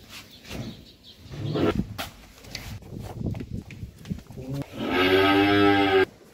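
A ten-month-old heifer moos on a Bangladeshi dairy farm, one loud, drawn-out call near the end after a stretch of people talking and farmyard noise.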